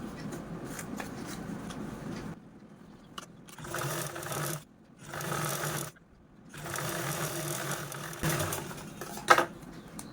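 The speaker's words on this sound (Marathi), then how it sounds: "दुसरा पार्ट पण आपल्याला यावरती अशा पद्धतीने स्टिच करून घ्यायचा आहे" A domestic sewing machine runs in several separate bursts, each a few seconds long, while topstitching a zip onto a small fabric pouch. Short pauses of quiet handling fall between runs, and the machine sounds close throughout.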